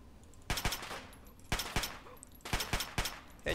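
Gunfire from a weapon in Fallout 3 cracks out in three quick bursts of two or three shots each, loud and close, with short pauses between bursts and no talk over them.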